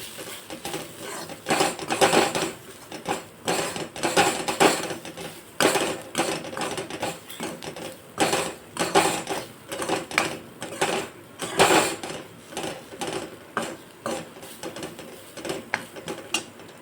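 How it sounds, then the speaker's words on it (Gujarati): A spoon stirring spice-coated onion filling for Jodhpur-style pyaz kachori in a pan, repeated scraping and clinking strokes in a steady rhythm, close and fairly quiet, with no talk. "હવે આપણે બધું જ મિક્સ કરી દઈશું"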